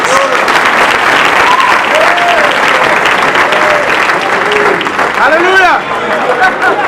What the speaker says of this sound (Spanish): Clap your hands one more time unto the Lord.